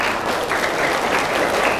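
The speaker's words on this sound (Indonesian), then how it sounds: "tepuk tangan dulu nih" An audience in a mosque claps in a dense, steady round of applause, loud and close, with no clear voices over it.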